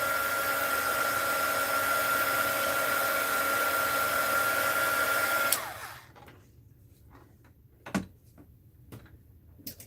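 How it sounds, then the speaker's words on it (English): A heat gun blows with a steady, loud whooshing roar for about five seconds, then cuts off abruptly, leaving near silence broken by a few small clicks and taps. "I gotta find a better setup for my heat gun"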